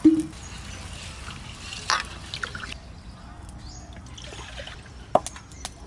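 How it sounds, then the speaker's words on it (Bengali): Rice being rinsed by hand in water in a pot at an outdoor village hearth in the Sundarbans, with soft trickling, sloshing and a few drips, close and fairly quiet, plus a couple of sharper knocks. "চালটা ধুয়ে হাঁড়িতে দিয়ে দেবো"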